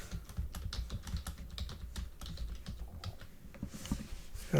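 Someone types on a computer keyboard to rename a file, a quick run of close, crisp key clicks in an uneven rhythm, with no voices.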